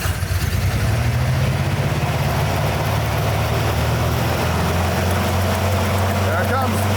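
Vintage car engine, likely a 1940s Chevrolet, revving continuously with its carburetor popping, loud and close, a low rumbling drone rising in pitch early on and holding steady, with voices partly mixed in.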